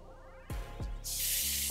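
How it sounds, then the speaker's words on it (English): Short bursts of hair spray from an aerosol can hiss close by, a couple of quick puffs and then a longer spray. "I'm gonna just spray a little bit."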